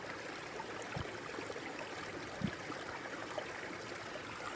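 A cold mountain stream in the Carpathian forest flows steadily, a continuous soft rushing of water with a few faint knocks and rustles close by.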